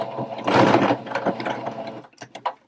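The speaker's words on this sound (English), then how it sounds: "I will set the machine to just a regular straight stitch, and I will put the fabric a little bit askew, and I will sew through just a few stitches back and forth" A sewing machine running a regular straight stitch through fabric, a short loud burst of stitching back and forth, followed by a few quicker, lighter mechanical clicks and taps.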